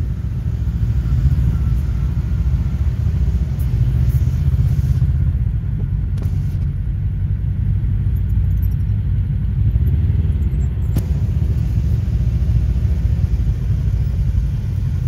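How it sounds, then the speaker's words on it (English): A Polaris RZR KRX 1000 side-by-side UTV engine idles with a low, steady rumble, muffled as if heard from inside an enclosed cab, with a few faint clicks and rattles. "sitting here idling, you barely even know the machine's even running"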